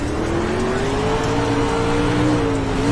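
Race car engines in a virtual racing game rev up together at a restart, a steady loud drone with rising pitch lasting throughout, no voices.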